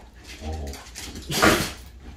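A dog on a farm makes close snuffling snorts and a soft whimper, with a louder burst of breathy snorting in the middle of the short stretch.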